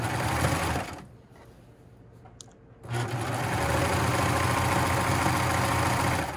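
A serger overlock machine stitches an inner leg seam with a loud, steady mechanical whir. The motor stops briefly, then runs again at full speed.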